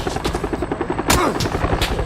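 Helicopter rotor thudding close by in PUBG gameplay, a steady throbbing chop mixed with bursts of gunfire, loud and continuous throughout.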